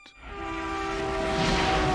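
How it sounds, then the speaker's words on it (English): A train passes nearby in the Resident Evil 0 video game on PC, with steady horn-like tones over a rising rumble that builds and holds loud for about two seconds, with no talking. "There's just a train nearby, of course."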